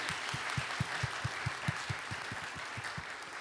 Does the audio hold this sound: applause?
yes